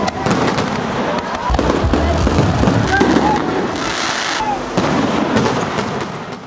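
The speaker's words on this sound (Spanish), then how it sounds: "show pirotécnico que iluminó por cerca de 30 minutos el cielo yicano, el mar y el antiguo muelle" A New Year's fireworks display over the sea and old pier at a lakeside party in Vichuquén, Chile: a dense, continuous barrage of crackling bursts and sharp pops, loud and close, with crowd voices mixed in.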